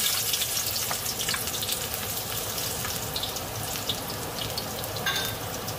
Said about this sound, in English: the first thing we're going to saute is the garlic